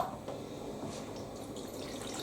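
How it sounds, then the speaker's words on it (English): A Siemens IQ300 washer dryer draws water in during a wool cycle, giving a steady, moderately quiet hiss of running water that continues without a break. "I might get a bit of time to fill that with water."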